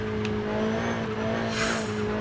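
A Ferrari 488 Challenge race car engine in Forza Horizon 5 drones steadily at a constant pitch, with a brief hiss of tires sliding near the end.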